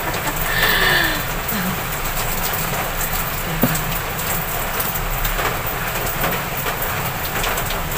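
Steady rain falls on a rainy day, a continuous close hiss of drops on surfaces that lasts throughout, with a few faint clicks and a brief tonal chirp early on, and no talk.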